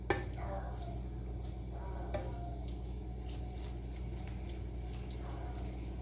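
Ground beef cooks in a kitchen pan, a soft steady sizzle with scraping stirs and light utensil knocks against the pan, with faint background hum.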